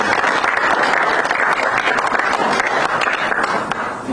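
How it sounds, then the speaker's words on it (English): A room full of guests claps steadily and loudly throughout at a bilateral lunch attended by President Trump, with faint voices mixed into the applause. "Round of applause."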